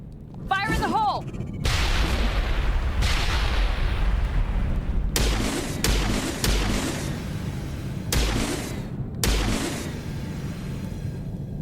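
Grenade explosions in the sci-fi shooter Mass Effect Legendary Edition, a series of sharp, loud blasts and booms over rumbling combat ambience, with a brief shouted voice near the start.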